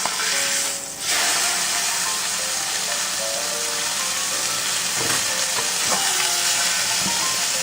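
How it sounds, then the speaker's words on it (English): Llama liver searing in a hot pan, a loud close continuous sizzle and hiss with a few soft scrapes and knocks from the pan, no talking. "I'm going to let that sear."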